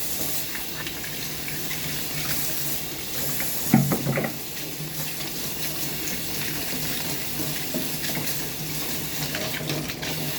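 Tap water runs in a steady hiss as vegetables are washed under it, with a brief splash or clatter partway through and little else.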